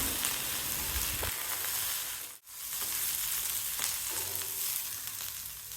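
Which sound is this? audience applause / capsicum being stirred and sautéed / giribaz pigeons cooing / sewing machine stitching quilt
capsicum being stirred and sautéed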